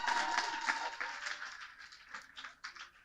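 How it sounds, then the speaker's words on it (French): Audience applause for a student named Arikpri Aou Ange Oriane Destinée joining a televised student debate, a steady wash of clapping that holds for about three seconds and thins into scattered claps near the end. "On va l'applaudir très fort"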